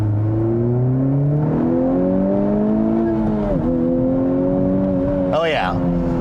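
A 2020 Honda Civic Type R in R+ mode pulls hard through second gear into third, with synthetic engine sound piped into the cabin. The loud, rising harmonic drone dips at the gear change and climbs again, with a brief burst of noise near the end.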